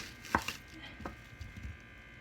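A knife cuts a red onion widthwise into slices about a quarter to half inch thick, giving a few faint, separate chopping taps on a board, one crisper than the rest, with no talking.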